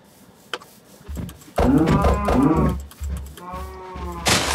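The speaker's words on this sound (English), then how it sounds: "Come here, stupid cow." A Minecraft cow gives a few low, drawn-out moos with short gaps between them, loud and close, and a sharper burst comes at the end.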